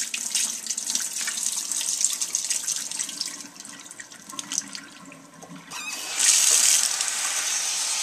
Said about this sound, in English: I'm going to change the water on the noodles